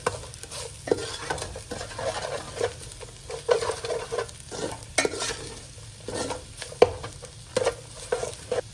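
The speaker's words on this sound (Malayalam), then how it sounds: "നല്ലപോലെ ഇളക്കി കൊടുക്കുക." A spatula stirs and scrapes masala around a pan for Kerala-style beef curry, with repeated uneven strokes and a soft frying crackle underneath. The sound is close and steady, with no voices.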